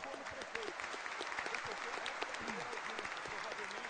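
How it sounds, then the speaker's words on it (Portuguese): An audience at a public hearing applauds to welcome the mayor-elect, steady dense clapping from many hands throughout, with murmuring voices underneath. "Gostaria que vocês me ajudassem a recepcioná-lo com uma salva de palmas."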